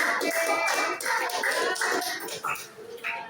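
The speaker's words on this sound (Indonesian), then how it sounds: "Kasih tepuk tangan dulu dong buat kelompok 5 sudah selesai duluan" A classroom group of students claps for group 5, a dense burst of applause about three seconds long that stays steady, then thins into scattered claps near the end.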